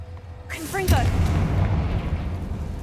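The Confringo blasting spell in Hogwarts Legacy: a shouted incantation, then a sudden loud booming blast that rolls off into a fading rumble.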